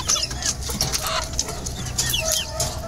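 A flock of chickens clucks busily while pecking at petchay greens, with overlapping close and distant calls repeating over a steady background.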